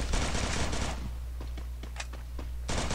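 Automatic gunfire from a ranked squad match in a video game: a loud rapid burst opens, a few sharp single shots follow over quieter background, then another dense burst closes.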